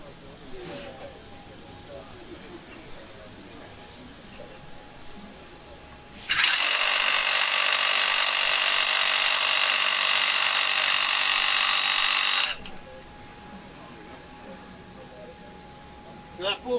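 A Diablo Rebar Demon full carbide head bit drills into concrete through rebar, a loud, steady, high-pitched grinding whine lasting about six seconds between quieter stretches with faint talk.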